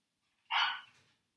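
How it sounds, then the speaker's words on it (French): A single sharp dog bark rings out close by against near silence, then fades quickly. "si jamais vous entendez le magnifique aboiement"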